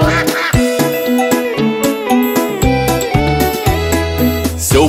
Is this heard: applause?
no